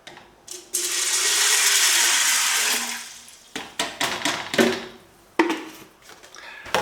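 A liter of water is poured into a pot of beans for feijão, a loud sustained rush of liquid for about two seconds, followed by scattered knocks and clatters of the pot.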